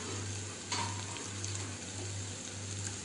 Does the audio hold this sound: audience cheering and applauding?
no